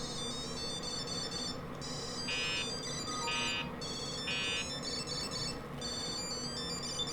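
A second-generation Tile Bluetooth tracker plays a repeating electronic ringtone melody, bright high chiming notes in short phrases over a noisy background, moderately loud and continuous.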